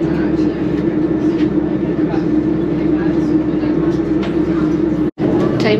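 Interior of a moving ScotRail passenger train: a steady low rumble and hum of wheels and carriage runs throughout, with mid-range rattle and a brief dropout near the end, fairly loud and close.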